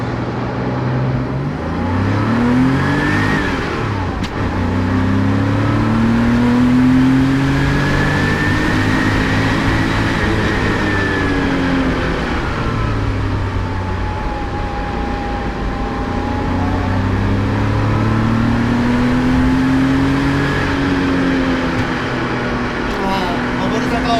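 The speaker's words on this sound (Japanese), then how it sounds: "今日この911スピードスターデザインスタディプロトタイプがどんなハンドリングでどんな表情を見せてくれるのか、少しペースアップしていってみましょう" A rear-engined Porsche 911 Speedster Design Study Prototype picks up pace on a drive, its engine note rising and falling through the gears as a steady, close, continuous tone.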